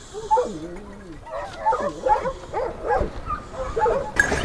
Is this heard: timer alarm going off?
no